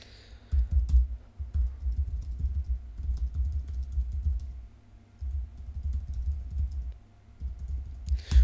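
Keys clatter in quick bursts on a computer keyboard while a message is typed into a text box, with short pauses between runs of fairly soft, close tapping.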